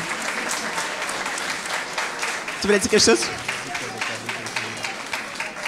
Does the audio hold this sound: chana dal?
no